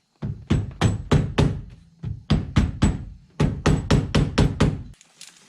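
An impact wrench fastens a quick-release steering hub adapter onto the steering column of a BMW E36, sounding as three loud bursts of rapid hammering, each made of several sharp rattling blows, with short pauses between them.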